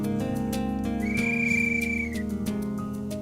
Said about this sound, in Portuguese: Seu João toca o apito dos escoteiros.